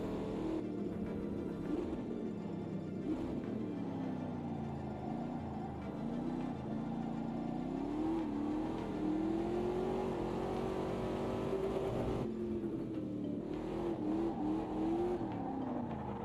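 Race car engine in the AMS2 racing game, revving and rising and falling in pitch through gear changes and throttle lifts, a sustained close whine with brief dips, no talk over it.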